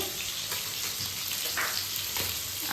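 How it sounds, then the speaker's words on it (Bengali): Catla fish heads fry in hot oil in a home kitchen, giving a continuous loud sizzle and crackle with a few soft stirring sounds. "কাতলা মাছের মাথাগুলো ভাজছি"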